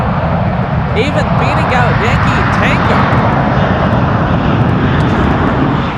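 A Lufthansa airliner at San Francisco airport makes a loud, steady, broad jet-engine roar that holds throughout, while someone talks over it.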